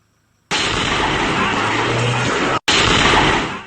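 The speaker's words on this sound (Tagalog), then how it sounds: "Sa lakas ng impact ng pagsabog mula sa isang property sa Cabuyao, Laguna, nagalawang pwesto ng kamera." A sudden massive explosion at a fireworks-materials storage site in Cabuyao, Laguna erupts into a sustained, roaring wall of noise, cuts out briefly, then rumbles on loudly before easing slightly.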